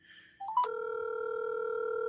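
Phone call being placed: a few quick dialing tones lead into a steady sustained tone that holds to the end, clear and alone in a quiet room.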